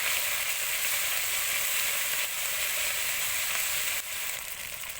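Garlic, ginger and cumin paste sizzles steadily in a pan, a dense continuous hiss with a slight dip and shift partway through, close and fairly even in loudness.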